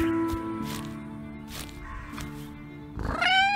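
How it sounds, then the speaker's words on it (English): A cat meows in the farm sim horror video game We Harvest Shadows, a few short soft calls spread across the clip and a louder, rising meow at the end over faint background music. "That's a cat."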